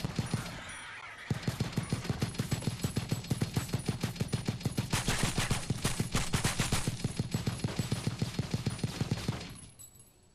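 Rapid turret gunfire from the video game Life Effect, a steady stream of evenly spaced shots lasting about eight seconds before cutting off, loud and close, with no talking over it.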